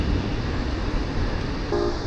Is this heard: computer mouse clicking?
no